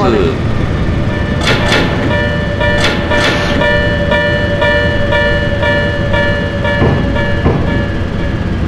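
A JR 103 series commuter train runs along the Tsurumi Line, heard from on board as a steady rumble of wheels and car body with a constant whining motor tone and a few brief rattling clatters along the way.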